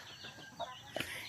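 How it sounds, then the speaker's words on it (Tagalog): Chickens being fed on a farm give a few scattered clucks, faint and brief, with a couple of slightly sharper calls near the end. "nagpapakain na siya ng mga manok"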